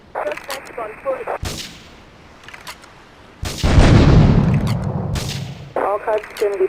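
Gunfire and explosions in the video game GTA III at Portland Harbor: a couple of sharp shots, then a heavy booming explosion that rumbles and decays over a few seconds, with bursts of crackly police radio chatter before and after.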